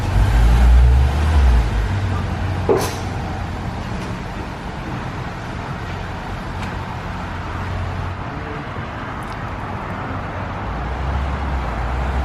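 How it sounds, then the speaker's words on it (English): Porsche GT3 RS on an alignment check, driving around the block with a quiet stock exhaust: a low, steady engine rumble and road noise, louder at the start and end, with a faint passing swish partway through. "So drive around the block, make sure it drives straight."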